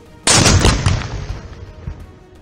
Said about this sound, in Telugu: చూసిండ్రా ఎట్లున్నదో ధమాకా.